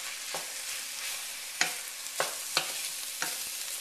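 Flour is stirred into a sizzling roux in a frying pan, a steady fry hiss broken by four or five sharp scrapes and taps of the utensil against the pan.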